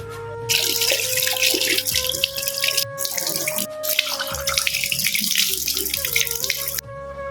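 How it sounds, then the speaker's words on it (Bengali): Tap water running into a sink while someone washes their face, a steady close splashing stream with brief breaks and changes as hands move through the flow. "এখন আমি আমার থোবড়াটা ওয়াশ করতে যাব"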